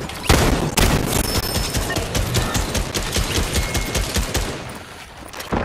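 Rapid, loud gunfire in the Fortnite video game, a dense, continuous stream of sharp shots and impacts filling the whole stretch with no pause, close and dominant, with no talk over it.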